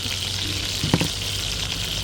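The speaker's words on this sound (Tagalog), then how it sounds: "Dito ko na pinirito yung isda." Fish frying in oil in a pan at home, a steady close sizzle running throughout with a brief louder crackle or stir near the middle.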